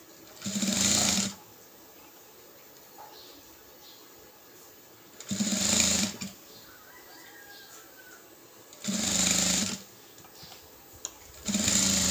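A home sewing machine stitches folded fabric in three short bursts of fast, even whirring, each about a second long, with quiet pauses between while the cloth is repositioned.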